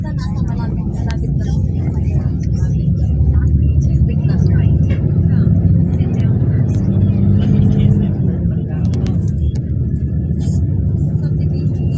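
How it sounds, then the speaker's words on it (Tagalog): A truck passes on the road, heard as a heavy continuous low rumble that swells toward the middle and slowly eases, with people talking over it. "Hindi yun dump truck. Truck yun."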